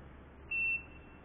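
A single electronic button beep from a SKY2000 gas detector, a short steady tone lasting about a quarter second over a quiet background hiss.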